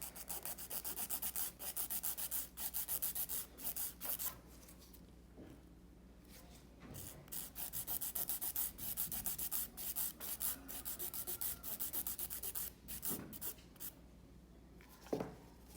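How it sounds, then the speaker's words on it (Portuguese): A straight nail file scrapes across a gel nail extension in quick repeated back-and-forth strokes, a dry rasping close to the ear with brief pauses between passes. "a lixa reta. Começo a lixar."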